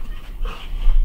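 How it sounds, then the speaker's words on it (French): Several dogs pant and whimper softly up close as they play, a brief snatch of playful canine noise. "Mes chiens sont en train de jouer à côté de moi."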